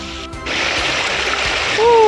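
Flash flood water rushes in a loud, continuous wash with splashing, close to the microphone, and a brief whistling tone near the end.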